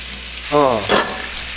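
Onions going into a hot pan for pork galbijjim, a steady loud sizzle with a brief burst of stirring and clatter, close up, no voices.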